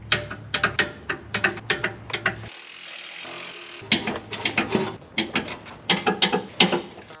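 A ratchet tightens engine mount nuts on an Xterra during a VK engine swap, clicking in quick rapid bursts near and loud, with a short pause in the middle.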